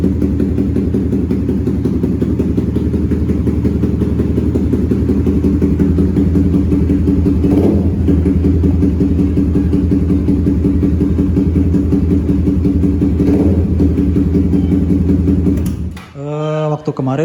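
A Suzuki GSX-R150 motorcycle fitted with a Proliner exhaust and BRT Juken 5 ECU idles steadily and loudly up close, a smooth continuous engine rumble that cuts off near the end.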